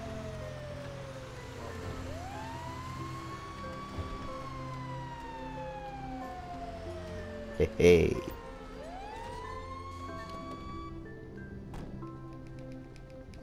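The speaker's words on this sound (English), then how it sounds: "Be with me, fire engine. Be with me." A fire engine siren in GTA V Online wails up and down, rising and falling through the clip, loud and close, with a sharp burst of impact noise midway and a brief voice calling out.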